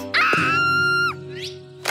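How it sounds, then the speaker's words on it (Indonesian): A frightened young girl in a cartoon lets out a long, high, sustained scream with strong harmonic ring, breaking off abruptly, followed by a softer rising wail. "Anak itu ketakutan dan mulai menjerit."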